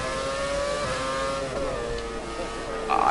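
A Formula 1 race car engine from the F1 2017 video game drones at a steady high pitch, shifting tone slightly as gears change, with a voice talking over it.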